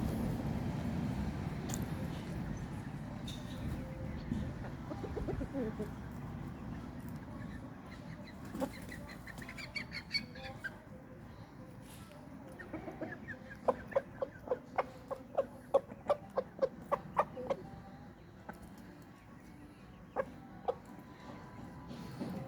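Chickens clucking in a barnyard, with a burst of sharp repeated clucks partway through over steady low background noise.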